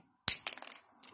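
Flat nose snips cutting supports off a 3D print, one sharp crisp snap followed by a brief crackle of plastic breaking away, then a faint small click, close and quiet.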